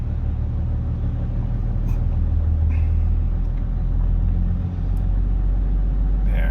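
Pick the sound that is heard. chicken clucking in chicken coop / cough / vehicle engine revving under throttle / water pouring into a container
vehicle engine revving under throttle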